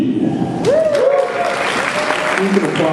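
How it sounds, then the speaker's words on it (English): Applause for a homeroom teacher at a Grade 9 graduation ceremony, a steady crowd wash beneath a voice speaking over it through a microphone. "You can applaud for her."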